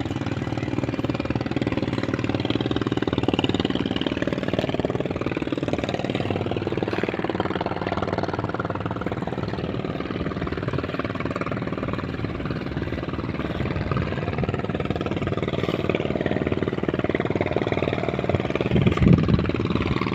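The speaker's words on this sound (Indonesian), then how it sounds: "Wah, ada kapal." A boat engine runs at a fish-drying and fishing spot in Medan, a steady droning rumble that holds at an even level for about twenty seconds with no voices over it.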